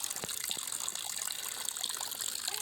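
Spring water gushes and trickles continuously nearby at a farm, a steady splashing flow with small bubbling bursts and no voices.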